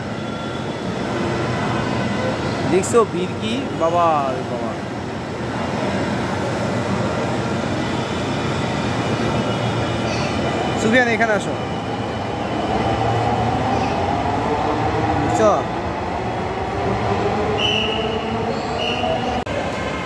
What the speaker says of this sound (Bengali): এই যে মেট্রো রেল চলে আসলাম।